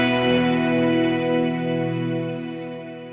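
Sustained electric guitar chord with a compressor pedal switched on, part of a worship guitar rig; the ringing tone stays steady and even, slowly fading over a few seconds, with light effects shimmer and no talking.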